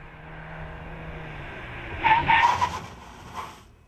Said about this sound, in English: Then it's time to slam on the brakes.